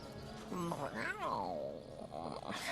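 A cat in the Divinity Original Sin video game gives a drawn-out, wavering meow with rising and falling pitch, fairly close and alone, with a faint noise after it.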